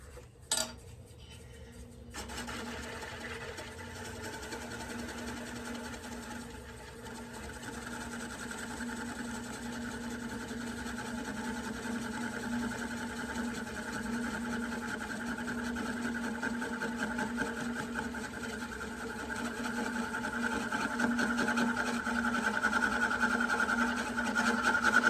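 A wood lathe spins a camphor wood bowl while a detailed spindle gouge cuts it. The motor gives a steady whirring hum with a continuous tonal whine that grows slightly louder over a long stretch.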